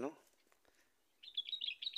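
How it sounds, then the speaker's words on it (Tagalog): Quick, high bird chirps and tweets repeat in a lively burst near the end, after a short faint sound at the start, at a grass farm in Saudi Arabia with doves and pigeons. "Ang dami kasing ibon dito guys, yung bato-bato. Saka mga kalapati."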